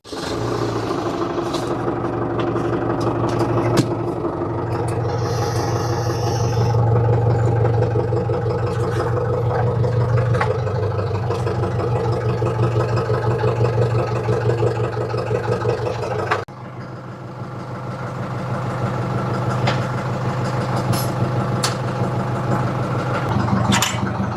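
A Same Dorado 75 tractor engine runs with a steady, droning hum that dips briefly before settling back to a constant rumble, with a mechanical weeding implement attached in a vineyard.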